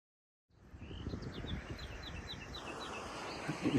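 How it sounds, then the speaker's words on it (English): Faint bird chirps repeat in a quick series over a soft low rumble and outdoor hiss, with bees buzzing, distant and quiet, along the Portuguese Camino in May. "You hear bees buzzing, birds singing."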